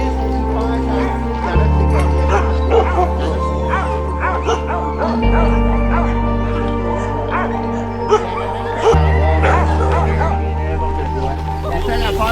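Sled dogs yip, whimper and bark in irregular bursts close by, mixed with steady music and some voices throughout.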